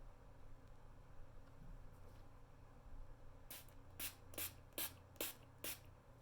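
After a few quiet seconds, an e.l.f. Illuminating Mist and Set Spray bottle fires about six quick, sharp bursts in a steady rhythm, close up against a faint background hum.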